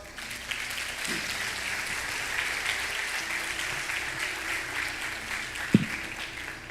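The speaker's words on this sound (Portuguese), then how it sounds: "vamos aplaudir nosso Senhor bem forte" A congregation at a lively church service applauds steadily and fairly loudly, a continuous layer of clapping over a low hum, with a couple of sharp knocks standing out.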